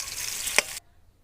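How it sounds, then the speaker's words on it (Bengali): Potatoes frying with salt and turmeric make a brief, close sizzle with one sharp clink partway through, then cut abruptly to near silence. "আলু ভেজে নিচ্ছি একটু লবণ হলুদ দিয়ে"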